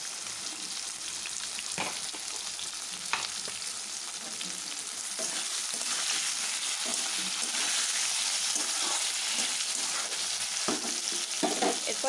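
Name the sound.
potatoes and bitter gourd frying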